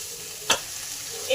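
Potatoes and vegetable stalks are stir-fried with salt and turmeric in a pan, giving a constant close sizzle broken by one sharp scrape of a spatula near the middle, with no voices.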